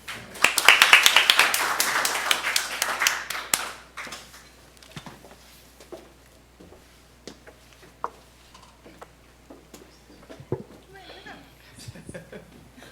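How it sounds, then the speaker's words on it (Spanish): An audience at a lecture on publishing welcomes a speaker with a brief round of applause: a few seconds of crisp, fairly loud clapping that fades into a quiet room with scattered small noises and some talk. "Ahora sí, recibámosla con un aplauso."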